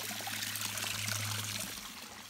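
Spring water trickles out of a narrow rock crevice at a medicinal spring, a steady, soft, close babbling with a low hum beneath, continuous and unbroken throughout.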